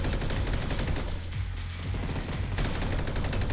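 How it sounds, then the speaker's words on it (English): An MP5 submachine gun firing in a video game, sustained rapid automatic shots running nearly without pause, with a brief dip in the middle before the burst resumes, loud and close. "let's go with the MP5. Now, this is a good gun. Love the way it sounds."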